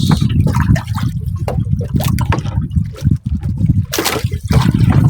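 A strong river current rushes steadily and loudly throughout, a continuous close wash of water with no pauses.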